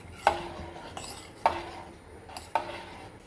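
A spoon stirs boiled dal in a metal pot, three distinct scraping clinks roughly a second apart over a quiet background.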